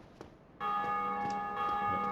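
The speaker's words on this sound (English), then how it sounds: "So you can actually hear all these bells and stuff." Sustained bell tones ring out in the video game Dark Souls Remastered, starting abruptly and holding steady with layered, shimmering overtones, preceded by a brief quiet stretch with a faint earlier chime.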